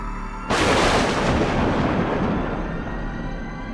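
A sudden loud thunder crack breaks out and rolls into a long, rumbling decay that fades slowly over several seconds.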